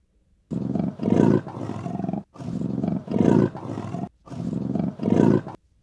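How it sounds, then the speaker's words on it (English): A leopard roars in a series of deep, rasping bursts, five or six grunting calls in quick groups, close and loud with no talking. "Leopard."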